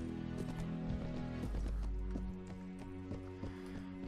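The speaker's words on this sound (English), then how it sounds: "This is my lame horse." Horse hooves clip-clopping in the Mount & Blade Warband medieval conquest mod, the mount lame, with rhythmic hoofbeats over loud battle music and game ambience.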